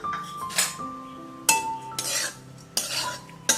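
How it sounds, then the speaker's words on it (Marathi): Half a cup of finely grated dry coconut roasting over a low flame, stirred continuously. A spoon clinks and scrapes against the pan in repeated strokes roughly every second, close and fairly quiet. "खोबरं खूप पटकन भाजलं जातं त्यामुळे ह्याला सतत हात ढवळत राहायचंय"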